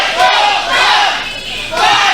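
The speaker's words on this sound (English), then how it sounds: "Crowd chanting for Bible Club." A wrestling crowd chants for Bible Club, a loud, dense roar of many voices that swells and dips in waves throughout.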